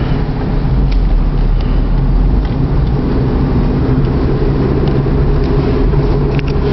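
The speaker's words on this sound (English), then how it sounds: "you will see a number of vehicles approaching me. They're passing my street right now" Steady, loud traffic rumble of vehicles passing on a residential street, one continuous wash of engine and road noise with no distinct separate pass-bys and no talking.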